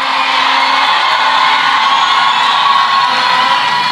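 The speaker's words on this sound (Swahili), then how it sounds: "Shangilieni makofi makubwa." A large outdoor crowd at a political rally roars with whoops, shouts and cheers in a loud, continuous wall of sound that carries on without pause.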